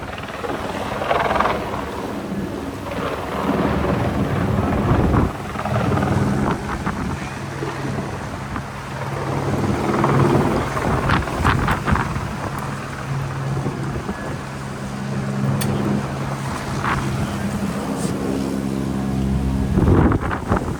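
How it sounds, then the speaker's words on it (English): An AS350 A-Star helicopter flies close by with a powerful rotor thump and engine whine, buffeted by loud wind noise on the microphone, sustained throughout. "Man, that helicopter got power. Yeah. An A-Star. Man, it's fast."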